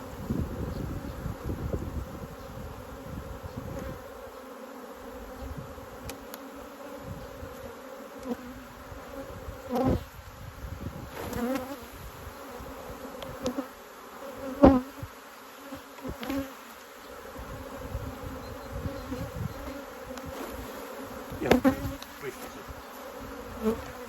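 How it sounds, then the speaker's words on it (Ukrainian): A dense, steady buzz of many honeybees at a hive fills the air close by, with individual bees droning louder as they pass near. "зараз бджола злетиться"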